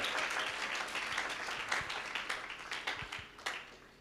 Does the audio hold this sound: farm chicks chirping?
no